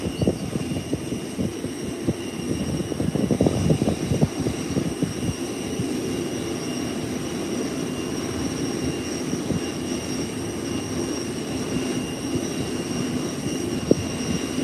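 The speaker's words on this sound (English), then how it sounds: "It's now at the threshold of the runway. And it's going to be taking off soon." Gulfstream business jet at the runway threshold of Howard Hamilton International Airport, a steady low engine rumble and whine heard from a distance outdoors, continuous with no talk.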